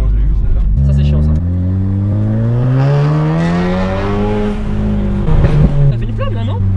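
A Volkswagen Golf 7R with a Stage 2 tune, about 400 horsepower and an IPE exhaust revs loudly and close, pitch rising and falling through a sustained pull, with a sharp crackle near the end as the flames pop; voices talk over it.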